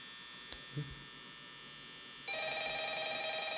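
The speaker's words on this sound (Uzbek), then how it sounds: "Telefon" A telephone starts ringing in the Five Nights at Freddy's horror game at Freddy Fazbear's Pizza, a buzzing electronic ring that kicks in partway through after a quiet stretch with a couple of faint clicks.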